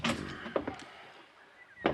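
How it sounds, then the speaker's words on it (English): A door with its lock pried off is opened, giving a soft clunk and a brief scrape followed by another knock, close and quiet in a still room. "And I opened the door."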